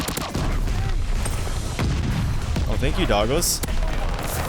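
MP40 submachine gun fire in Call of Duty: Vanguard, with bursts and booming shots in a loud, busy firefight mix. Someone talks excitedly over the shooting.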